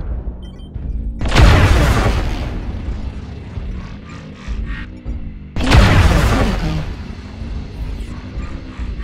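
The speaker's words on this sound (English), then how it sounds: "Artillery strike online." Artillery strike explosions in the mech combat game MechWarrior Online, two heavy booming blasts a few seconds apart, each a loud roaring burst that rumbles and fades, over a low steady engine hum.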